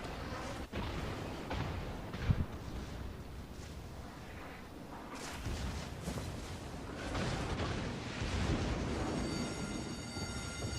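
Naval gunfire in World of Warships as the German battleship Tirpitz sets the Japanese ship Amagi ablaze: a steady, heavy rumble of battle noise with a sharp blast early on, then dense crackling and roaring toward the end.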